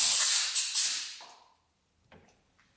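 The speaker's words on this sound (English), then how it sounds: "Let me just spray that out quick." A spray can blasts short hissing bursts into a corroded part on a 1968 Harley-Davidson motorcycle, close and loud, then stops, leaving quiet with faint clicks.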